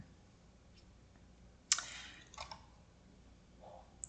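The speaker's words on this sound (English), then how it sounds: "Let's click on the button and take a look at it." A single sharp mouse click on a website button, faint and close, followed by a few softer clicks in an otherwise quiet room.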